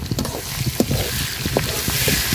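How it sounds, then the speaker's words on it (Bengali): Spice paste of ginger, cumin, garlic and red chilli sizzles and crackles in hot oil, with soft scraping stirs breaking in at irregular intervals, close and fairly loud. "মশলাটা তেলের সাথে খুব সুন্দর করে ভাজা নিছি।"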